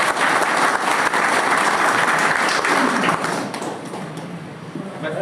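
Audience applause welcoming a speaker at a one-day CSC workshop, loud steady clapping from a crowd that gradually thins and fades over a few seconds.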